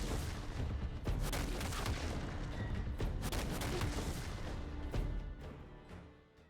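Gangplank's barrels explode in League of Legends. The sound is a dense run of booming blasts and crackling bursts that stays loud for several seconds and then fades out at the end.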